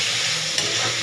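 Vegetables being stirred while they fry in a pan, a loud steady sizzle with a brief scrape partway through, no voices.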